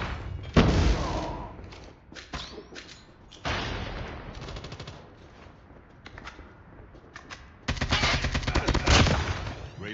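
A sentry gun in a zombie video game firing in rapid automatic bursts, loud and close, with pauses between the volleys and heavy thumps mixed in.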